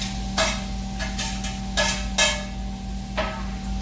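Garlic and tomato sautéing in a pan, a low steady sizzle with a constant hum behind it and a handful of sharp spatula strokes as the mixture is stirred.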